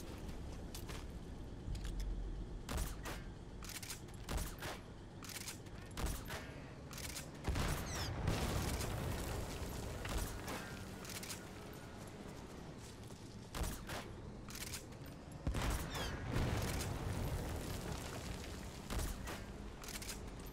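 Semi-automatic fire from the Molotok-68 in Metal Gear Solid V rings out as a series of sharp, loud shots at irregular intervals, some in quick succession, over a low game ambience.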